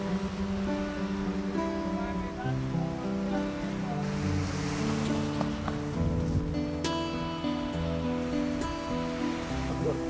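Waves at a beach wash in with a continuous roar and hiss, rising and falling softly, while other faint sounds sit in the background and nobody speaks.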